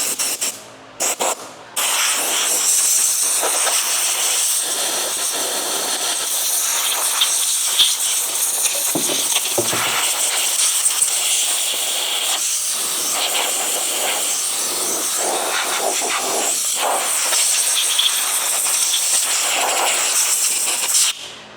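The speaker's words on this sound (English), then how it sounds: "I use tons of brake cleaner, guys, in case you guys haven't noticed." Brake cleaner sprayed from a can onto parts of a Freightliner Cascadia truck during kingpin bushing work, a loud, close, continuous hiss lasting about twenty seconds after a couple of short opening bursts.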